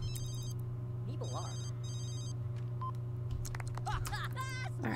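A phone rings in The Sims 3: bursts of electronic trilling come in short groups over a constant low background hum, with brief game noises between them.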